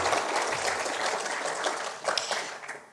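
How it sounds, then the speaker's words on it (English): A round of applause from the audience at the Utah Safety Council annual meeting and awards, honoring a Women in Safety recipient; dense, sustained clapping that holds steady, then thins and tapers off near the end. "can we get a round of applause for Natalie and all of her efforts that she did this year?"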